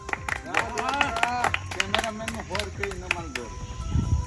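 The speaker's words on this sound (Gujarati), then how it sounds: "તાળીઓ પાડો ભાઈ" A small group of people clap their hands at a casual pakodi eating challenge, a few seconds of loose, uneven clapping mixed with voices talking.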